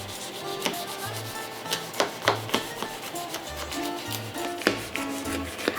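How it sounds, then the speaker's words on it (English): Knife scoring the phyllo pastry top of a vegan spanakopita, a series of crisp scraping and crunching cuts at an irregular rhythm, close by over faint background music. "it's really important to score it so the phyllo doesn't break when you take the pieces out"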